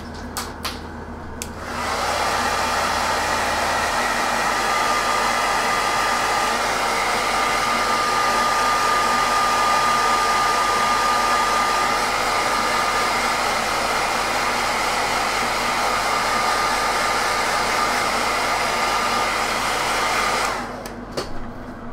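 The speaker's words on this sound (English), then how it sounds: "let's hit him with the hairdryer" A hair dryer blows loudly and continuously for nearly twenty seconds, with a steady whine, then switches off.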